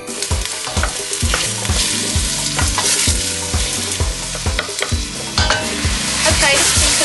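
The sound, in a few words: curry base frying and sizzling in a pan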